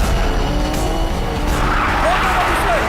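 A car speeds and skids during a chase, a loud continuous engine roar with rising tire squeals, heard alone and close.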